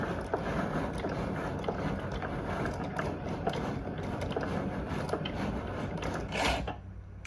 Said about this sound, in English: The wood is thick, so the blade goes around several times to make sure it's cut all the way through.